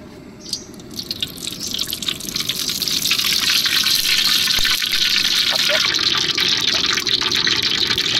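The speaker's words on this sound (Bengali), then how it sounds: "দিয়ে দিলাম সরিষার তেল।" Mustard oil poured into a pan for frying jumbo potato singaras gives a steady, close liquid pour that swells and holds, dripping and gushing with no voice over it.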